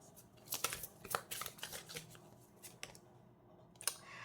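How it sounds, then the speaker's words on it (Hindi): A deck of tarot cards is shuffled by hand, giving quiet bursts of crisp riffling and slapping in an uneven rhythm, close and soft, with no talking. "कार्ड शफल कर लेते हैं वर्गो।"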